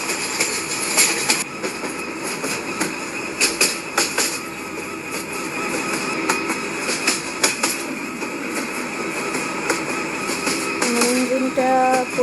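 A train runs along the track in a video game, with continuous rolling rumble, repeated sharp clicks of wheels over rail joints and a high squeal of wheels near the end.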